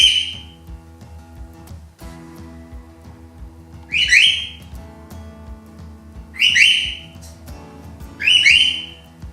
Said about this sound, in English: And the bird is yelling, "Papa! Papa! Papa!"